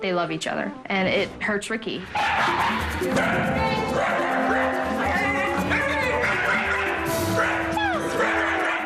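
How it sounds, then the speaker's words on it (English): Shiba Inu barks, yelps and yodels in a rapid, loud, drawn-out run of howling cries, starting under a man's speech and then continuing alone close by. "he starts barking and yelping and doing the Shiba yodel"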